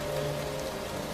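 Steady rain pours down on a grey concrete high school and the street around it, a constant close hiss of drops on hard surfaces with a faint low hum underneath and no voices.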